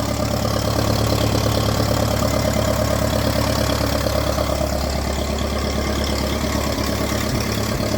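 A 1951 Ferguson TED20 tractor engine idles loudly and close by, with an even, continuous knocking chug and no voices over it.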